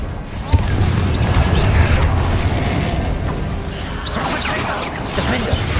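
A Confringo spell blast bursts in the Hogwarts Legacy video game amid dense, loud combat noise: a sharp initial thump followed by continuous crashing, crackling and rumbling effects.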